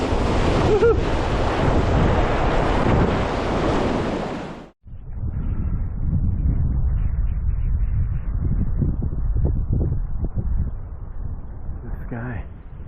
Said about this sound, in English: And we got a little rapid right in front of it.